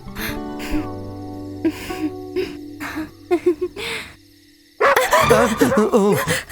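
Dog barking in several short separate bursts, fairly close, with spoken voices and other background sounds in a dubbed romantic film scene.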